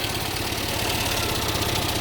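A Skoda car engine idles steadily after a jump start, a close rumbling hum with a slightly uneven knock and no change in speed.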